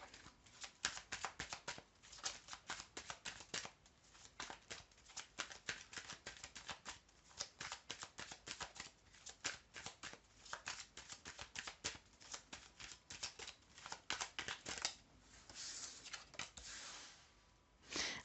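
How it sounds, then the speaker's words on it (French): Tarot cards are shuffled by hand for a reading, giving a long run of rapid, soft riffling and flicking with brief pauses. Nobody speaks. "Je tire 3 cartes."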